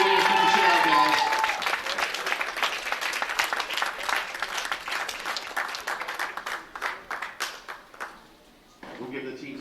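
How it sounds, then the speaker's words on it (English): Crowd applause after a men's bracket match: a full burst of clapping that thins into scattered individual claps and fades out, with voices talking through it. "Let's give them a real big hand, a round of applause."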